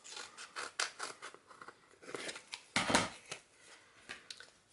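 Scissors snip through material to make storage for rubber stamps, a series of crisp close cuts in uneven rhythm with one louder, longer cut near the middle and no voice.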